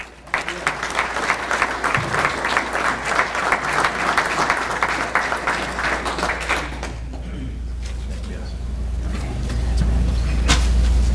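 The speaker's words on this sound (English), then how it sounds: "So, round of applause for Leo." Sustained audience applause fills a banquet room at a Coaches of the Year and Hall of Fame awards dinner honoring Leo, dense steady clapping over a low hum for about eleven seconds.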